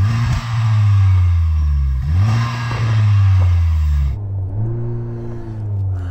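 A Honda Civic Type R FK8 engine revs up and falls back repeatedly, loud and close, with three or four rising and dropping swells and no talk.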